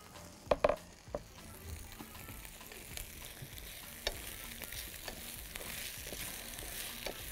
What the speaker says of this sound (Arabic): بص كده بقلب ايه البطاطس مع البصل كده شويه